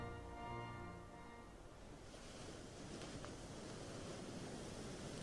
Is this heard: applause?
no